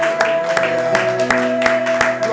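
A church congregation claps in steady rhythm along with music during a French-language worship service, loud and even.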